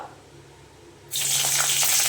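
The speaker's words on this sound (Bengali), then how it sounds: "কড়াইতে তেল সম পরিমাণে গরম হয়ে গেছে এবার দিয়ে দেব শুকনো লঙ্কা" Dried red chilies hit hot oil in a kadai while tempering for a begun (eggplant) dish, a sudden loud sizzling hiss bursting in after a second of near-quiet and holding steady to the end.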